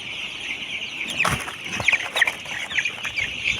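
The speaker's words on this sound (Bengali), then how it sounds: "দেখেন কিভাবে মুরগির বাচ্চার ঠোঁট কাটা হচ্ছে মেশিনের মাধ্যমে" Sonali chicken chicks cheep and chirp in a shrill, busy chorus, with scattered flapping and a few louder clucks, close up during machine beak trimming.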